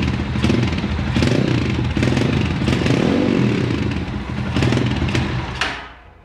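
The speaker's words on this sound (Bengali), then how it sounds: "আর এই বাইকটার এক্সস্ট সাউন্ডটা কেমন সেটা আপনাদেরকে শোনাই।" Speeder NSX 165R motorcycle exhaust idling and revving up close, a loud steady rumbling burble with repeated throttle blips, dropping away at the end.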